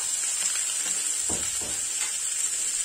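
A vegetarian stuffing mixture for small stuffed squashes fries in a pan with an even, close hiss, and a few brief stirring scrapes come in near the middle.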